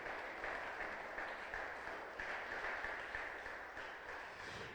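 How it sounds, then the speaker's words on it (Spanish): A church congregation applauds during a service, a faint, steady wash of many hands clapping heard from a distance, with no voices standing out. "Dale fuerte aplauso al Rey de Reyes"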